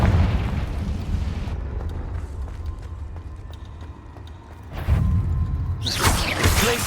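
Confringo blasting spells explode in the Hogwarts Legacy video game: a rumbling boom at the opening settles into a low ambient bed, then fresh loud blasts burst near the end.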